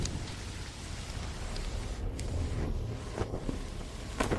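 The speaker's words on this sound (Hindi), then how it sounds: "कितनी तेज बारिश हो रही है।" Heavy rain pours down in a steady, dense hiss of drops hitting surfaces, with a few sharper splashes and low rumbling underneath, fairly quiet overall and with no talking.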